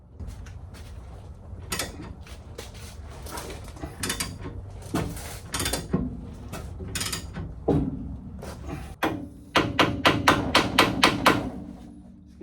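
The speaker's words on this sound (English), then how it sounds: "I'm tapping the knuckle, not the tool." Metallic tapping, knocking and creaking on the front axle knuckle of a Jeep Cherokee XJ Dana 30 during a rebuild. Irregular close clanks give way to a quick run of rhythmic taps near the end.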